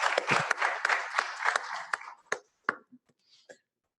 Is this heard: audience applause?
yes